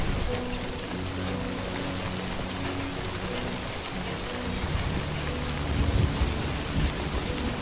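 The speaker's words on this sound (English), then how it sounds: "All right, now it's starting to rain now." Rain in the video game Death Stranding 2, a dense, steady hiss of downpour on surfaces with a low rumbling undertone, swelling slightly toward the end.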